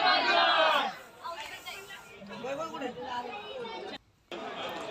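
Crowd voices mingle in the darshan queue at Jejuri temple: a loud burst of overlapping voices, then a lower babble of nearby talk that drops out briefly near the end.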